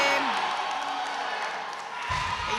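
A crowd at the men's 74 kg Asian Classic Powerlifting Championship 2022 cheers steadily behind Cheung of Singapore during his 295 kg deadlift attempt, a dense roar that swells again near the end, with voices mixed in.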